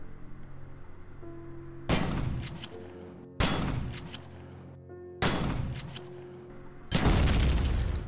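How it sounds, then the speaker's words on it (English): Four loud shotgun blasts from the video game Empyrion Galactic Survival, each a sharp boom with a lingering rumbling tail, spaced about one and a half seconds apart, with no speech. "which we can do with a shotgun."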